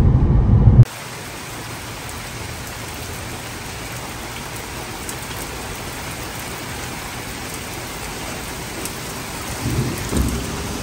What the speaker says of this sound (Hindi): यू कैन सी गाइस, यहाँ पे बारिश गिर रही है और मौसम बहुत अच्छा हो रहा है